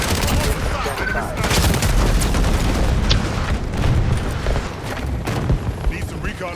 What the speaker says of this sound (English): Artillery beacon deployed.